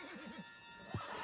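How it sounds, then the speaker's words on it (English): Horse whinnying in Red Dead Redemption 2 during a getaway, a single fairly faint neigh with a brief snort, heard alone over low background game ambience. "Put Strauss on the back of John's horse"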